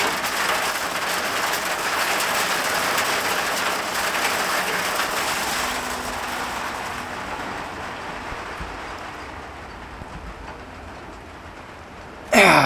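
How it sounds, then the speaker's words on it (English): Rain and hail falling on a homebuilt pioneer hut, a dense steady patter that holds for most of the span and slowly eases, ending in a sudden loud knock. "Hey, she's hailing. Actually, a lot of hail."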